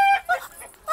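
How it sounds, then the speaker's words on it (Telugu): A chicken gives a few short, high clucks in quick succession, fairly close, with a brief gap of quiet between calls and no speech. "ఇక్కడెక్కడో కోడి సౌండ్ అనిపిస్తుంది."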